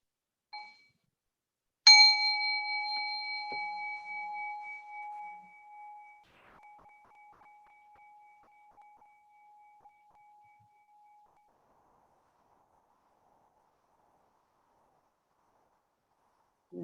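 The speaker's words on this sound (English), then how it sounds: "So I'm going to invite the bell and just take a breath." A meditation bell struck once after a faint light tap, ringing out as a clear sustained tone that slowly fades over about ten seconds into near silence, close and unaccompanied.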